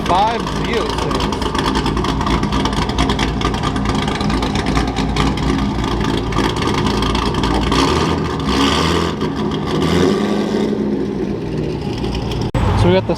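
A C5 Z06 Corvette engine revving and accelerating loudly and close at a street car meet, a steady roaring drone under continuous voices and crowd chatter.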